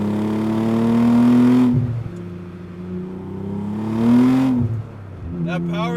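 A Nissan 300ZX twin turbo street build, around 500 horsepower, pulls hard on throttle in two loud surging bursts, the engine note climbing through the revs before shifting, heard from close by with a brief pause between pulls.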